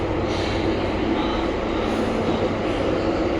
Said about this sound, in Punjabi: ਲਓ ਜੀ ਆ ਗਈ ਟ੍ਰੇਨ